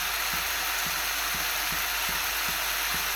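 Onions sauté in a pan with a loud, constant sizzling hiss, while a regular tap of a spoon against the pan repeats about every half second.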